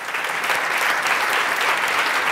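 An audience at an evening event welcomes Hansi Müller onto the stage with a steady wash of hand clapping, loud and sustained throughout with no voices.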